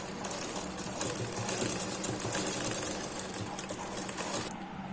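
A sewing machine runs steadily while stitching a one-piece katori blouse at a tailoring lesson, its fast, even mechanical whir continuous and close for nearly five seconds before easing off at the end.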